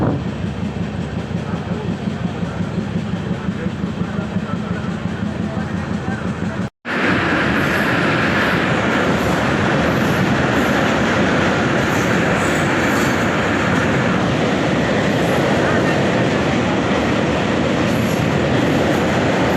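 A train crossing the Ganga at night, wheels and carriages rumbling loudly and steadily with rhythmic clatter, broken by a brief sudden drop before the roar resumes.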